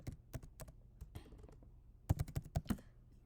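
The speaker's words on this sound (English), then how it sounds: "I'm just gonna type in render." Computer keyboard typing with a few scattered keystrokes, a pause, then a quicker burst of about six crisp clicks, close and fairly quiet with no talking.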